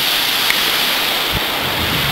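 Constant rushing water of a spring stream at Wied il-Mielah, Malta, loud and close, a dense hiss of flowing water with no pauses.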